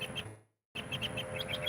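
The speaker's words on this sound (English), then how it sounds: "I hear him chirping." A bird chirps outdoors in repeated short bright tweets at moderate distance over steady ambient noise, with a brief gap of silence partway through.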